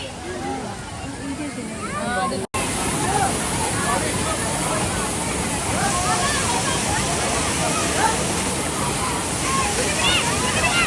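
Constant roaring rush of the Vattayi waterfall in Thrissur fills the whole clip, close and loud, with voices faintly mixed in.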